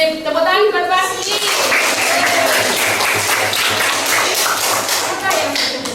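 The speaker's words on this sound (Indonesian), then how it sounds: "Sip, tepuk tangan buat Pasti." Children in a classroom clap for a classmate in a quick, scattered burst of applause, close and fairly loud, with voices mixed in over it.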